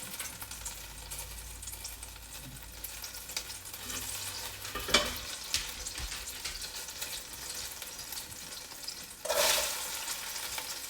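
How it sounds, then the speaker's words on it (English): Carrots and onions in olive oil sizzle steadily in a soup pot, with a stirring scrape near the middle and a louder hiss burst toward the end as more goes in, close and alone. "We're gonna let that heat up just a little bit, and then we're gonna add our carrots and onions."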